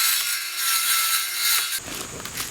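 Thin, pliable aluminum plate being cut with a tool, giving a harsh high-pitched grinding hiss up close that changes to a rougher, lower rasp near the end.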